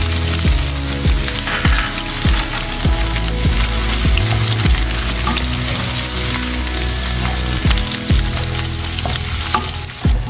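Chopped onion frying in oil for bhindi masala, with cumin and coriander in the pan: a loud steady sizzle close by, broken by repeated spoon or spatula knocks as it is stirred, with no talk.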